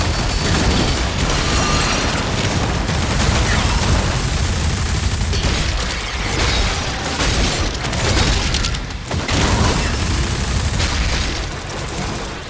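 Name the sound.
rapid-fire submachine gun in video game Doom The Dark Ages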